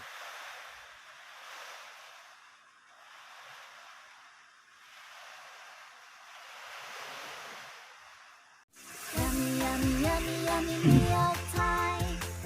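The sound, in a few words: strong stormy wind blowing outdoors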